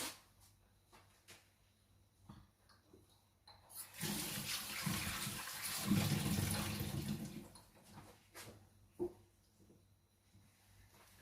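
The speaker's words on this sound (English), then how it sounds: "I'm just washing my hands." A kitchen tap runs while hands are washed under it, a splashing gush lasting about three and a half seconds in the middle, with quieter clinks and handling sounds before and after.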